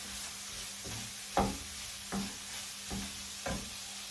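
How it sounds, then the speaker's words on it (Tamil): Spring onion and tomato frying in a pan as a spoon turns them, four or five distinct scraping stirs spaced about a second apart over a low, continuous sizzle, close and clear with no voices. "இதை நான் போட்டு பிரட்டி எடுக்க போகிறேன்"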